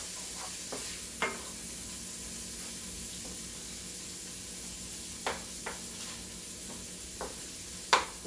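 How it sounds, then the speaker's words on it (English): Green peppers and green onions fry in a pan over a constant sizzle, broken by several sharp scrapes and taps of a stirring utensil, with one louder clack near the end. "And I am going to stir it up."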